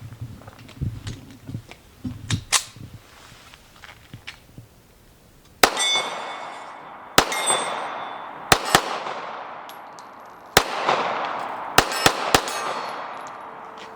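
Sharp, loud shots ring out from a Sig Sauer Emperor Scorpion .45 ACP handgun, fired outdoors. Several irregularly spaced reports, some in quick pairs, each with a ringing tail.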